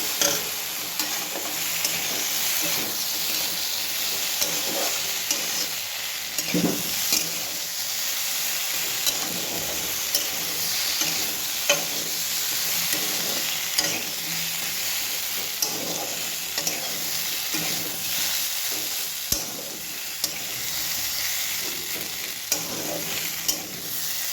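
Vegetables for Bengali shukto are stirred with cashew and poppy seed paste in a pan, a continuous soft sizzle and hiss broken by regular scraping strokes of the spatula, with no talk.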